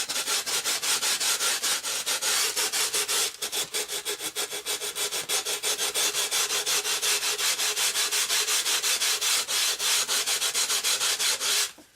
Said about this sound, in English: slowly sand it off